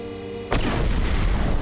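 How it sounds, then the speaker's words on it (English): A bomb explodes in a video game with a sudden heavy boom that cuts in abruptly, followed by a loud, sustained rumbling roar that fills the rest of the moment. "I just took no damage from a bomb explosion"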